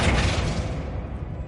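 Flipendo spell cast in Hogwarts Legacy: a loud, deep thump bursts out, then a short rumbling decay fades within about a second.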